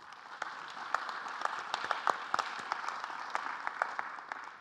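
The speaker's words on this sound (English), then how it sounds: "I would like to ask for a round of applause for them" Faint, steady applause for a discussion panel, with individual claps standing out as sharp ticks above a soft wash of clapping.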